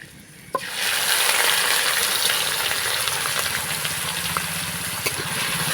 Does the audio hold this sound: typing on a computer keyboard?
no